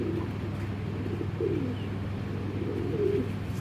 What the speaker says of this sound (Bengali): চলুন কবুতর একটু দেখাই